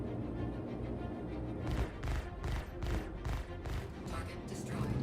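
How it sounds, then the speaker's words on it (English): Aircraft guns strafe ground targets in a video game, a series of rapid bursts of gunfire repeating in quick volleys over a constant background rumble, with voices talking underneath. "I'm going to start strafing ground targets"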